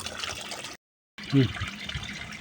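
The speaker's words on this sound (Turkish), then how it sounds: "pompayı şöyle bir suyun içine atalım" A battery-powered water pump is tossed into a tank of water: a short break, then a close splash and bubbling, followed by trickling liquid.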